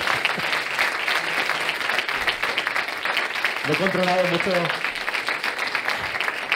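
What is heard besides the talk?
audience applause at award ceremony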